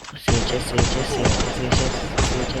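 Rapid gunfire from the video game Free Fire, with five or six evenly spaced loud shots in a steady rhythm over a constant background din.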